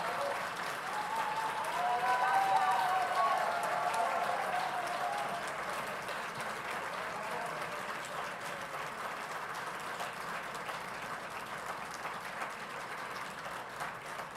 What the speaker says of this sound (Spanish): recibamos con otro aplauso a la autora de Juicio al Peronismo